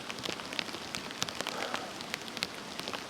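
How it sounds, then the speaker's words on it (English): Loud, steady rainfall pattering on a camping tent, a constant dense hiss punctuated by crisp nearby drop hits, with no talking. "I don't know if the camera's picking up the rain."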